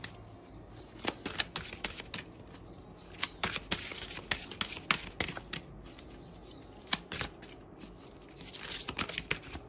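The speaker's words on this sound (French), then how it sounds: "Une deuxième carte que nous murmure Ganesh." Tarot cards shuffled and drawn during a weekly reading, giving bursts of quick papery riffles, flicks and slaps, close and fairly quiet, with no talk over them.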